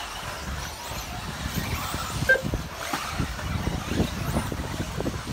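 Small 4WD RC race cars run on a track at a cup finals race, a steady buzzing whine of several motors near and far, rising and falling with faint passes and no clear speech.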